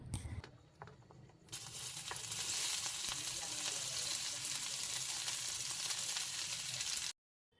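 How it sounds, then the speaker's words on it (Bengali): Chopped onions hit hot oil already holding cardamom pods, bay leaves and a spoon of sugar, bursting into a loud, sustained sizzle after a quieter start with a few clinks, then cutting off abruptly. "এখন আমি তেলের মধ্যে 2টো এলাচ, 2টো তেজপাতা আর 1 চামচ চিনি দিয়ে ভালো করে এটাকে ভেজে এর মধ্যে পেঁয়াজ কুচি দিয়ে দেবো"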